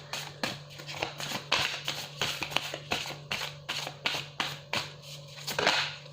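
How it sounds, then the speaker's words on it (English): A deck of wide oracle cards is shuffled by hand, close up, in a run of quick, regular riffling flaps and soft card slaps that keep an even rhythm throughout. "They're a little hard to shuffle. They're a little wide,"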